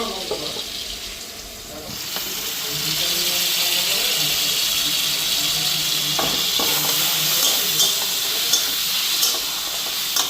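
Fish oil sizzling in a frying pan during home Bengali cooking, a loud steady hiss and crackle that swells after a couple of seconds and continues with occasional pops and stirring.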